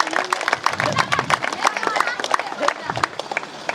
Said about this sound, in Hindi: इनके लिए जरूर जोरदार ताली बजाया जाए